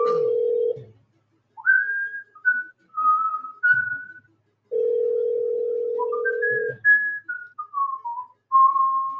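Someone whistles a short melodic tune in clear, rising and falling phrases, alternating with a steady low electronic tone.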